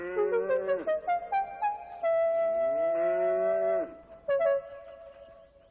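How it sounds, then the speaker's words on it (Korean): A cow in a cartoon story calls with long, loud moos near her calf, several lowing calls in succession, one held steadily before a shorter final moo. "여전히 선로에 있던 블루벨은 송아지를 다시 만난 다음에야 안심한 듯 선로에서 내려갔어요"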